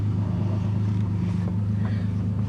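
Six-cylinder engine of a 2001 Ford Ranger idles steadily with a missing exhaust gasket, a close, continuous low rumble with no voices over it.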